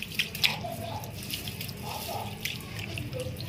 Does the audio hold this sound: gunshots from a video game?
no